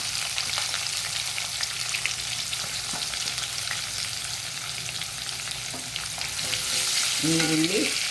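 Onion, ginger and green chili fry in hot oil in a pan for uppittu, a steady close sizzle with faint stirring scrapes that grows slightly louder near the end.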